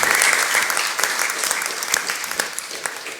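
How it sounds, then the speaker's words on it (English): Applause from an audience at a talk or book event, a dense patter of clapping that starts loud and gradually thins out and fades over a few seconds. "let's clap for them anyway"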